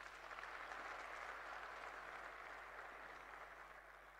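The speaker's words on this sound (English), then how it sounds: "So if you can please give them a hand clap." Audience at a youth conference applauds, a dense, sustained clapping from a large crowd that holds steady and fades slightly toward the end, with no voices over it.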